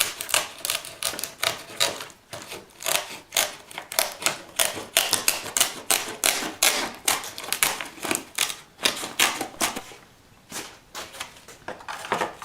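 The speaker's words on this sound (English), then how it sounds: "Tin shears work quite well for this. Cut right through this fiberglass, no problem at all." Tin shears snip through a fiberglass motorcycle seat base on a Honda Sabre cafe racer, a rapid series of sharp, crisp cuts in an uneven rhythm, close and clear with no talking.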